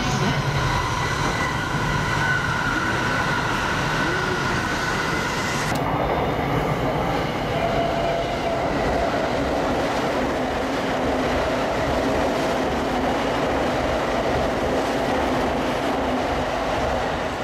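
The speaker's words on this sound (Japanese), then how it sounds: "まもなく1番線を電車が通過いた" A train rushes through a central Tokyo station on the Saikyo Line corridor with a loud, steady roar. The roar shifts in tone partway through as the cars pass close by.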